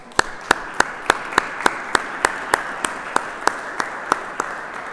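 Rhythmic, evenly spaced claps ring out at Mass in a church, a steady beat of sharp hand claps about four per second over a soft background of scattered applause.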